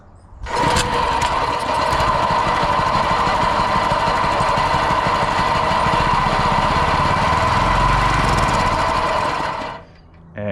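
Small gas engine on a hydrofoil catamaran, run without its air filter, starts up and buzzes loudly at a steady rapid rate for about nine seconds, then sputters down and stalls.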